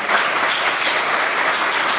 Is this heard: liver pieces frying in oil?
no